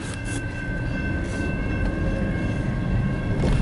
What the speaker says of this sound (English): Is it a freight train?